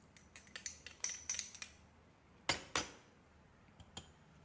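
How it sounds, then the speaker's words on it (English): Metal utensil clinking against a bowl while fruit and nut pancake ingredients are stirred together, a quick run of sharp taps followed by a few louder isolated clinks, close and alone. "Mix these ingredients together"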